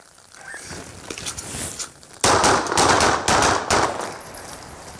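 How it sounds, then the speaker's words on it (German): Handgun shots ring out at a police shooting qualification test on a range, a series of sharp cracks and short rapid bursts, loud and close after a quieter start. "Wir schiessen 50 Schuss, ein Schuss, ein Punkt."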